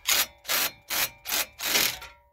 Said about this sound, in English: an impact driver